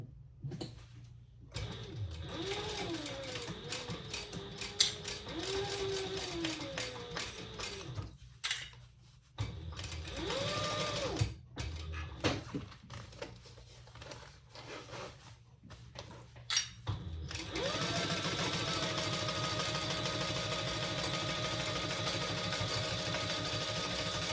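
Close-up sewing machine stitching a seam on a belt bag, running in several fast, buzzing bursts split by short pauses, and ending in one long steady run.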